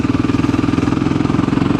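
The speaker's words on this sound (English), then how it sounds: "we're going to turn down this road here, so gently go down the gears" A motorcycle engine throbs close up with a fast, steady pulsing beat as the rider gently goes down through the gears, loud and continuous with no talk.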